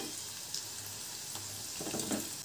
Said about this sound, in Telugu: ఆ తర్వాత మనం సన్నగా తరిగి పెట్టుకున్న ఉల్లిపాయ ముక్కలు, పచ్చిమిర్చి ముక్కలు నూనెలో వేసుకోవాలి